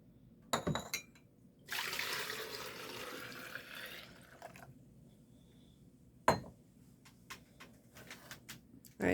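Almond milk is poured back into a blender, a steady close liquid stream lasting a couple of seconds between a few clunks and knocks, with no talking.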